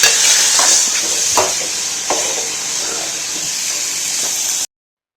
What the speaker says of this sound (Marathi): टोमॅटो आणि कांदा ब्राऊन गोल्डन होऊन द्यायचा आहे